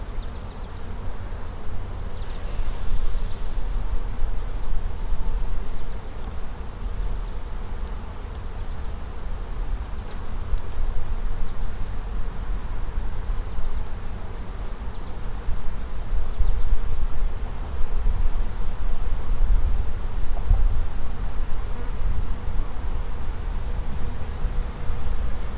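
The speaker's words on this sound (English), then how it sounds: "this hive is starting to get a little louder. Starting to buzz around my veil" A honeybee hive buzzes continuously, a dense droning hum that swells louder at moments, with no voices.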